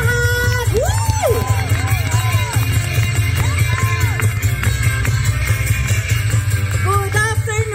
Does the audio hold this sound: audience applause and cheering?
yes